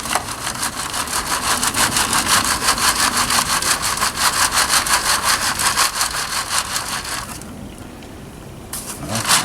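Potting soil rubbed through a garden sieve to make a fine covering layer over freshly sown marigold seeds, giving a steady close rhythmic scraping and rasping that runs continuously, then briefly softens before resuming.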